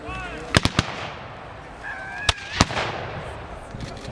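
Sharp British artillery cannon reports crack out at a battle reenactment, three in quick succession, then two more spaced apart, over an open-air background with distant honking.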